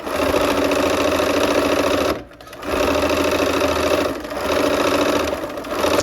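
Sewing machine piecing a quilt block with light gray thread, a loud close mechanical whir in rapid steady stitching bursts, pausing briefly twice before starting again.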